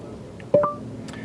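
Android Auto voice activation tone inside a car: a pair of quick, clear electronic beeps in close succession, fairly loud and near, over a low, steady cabin hum.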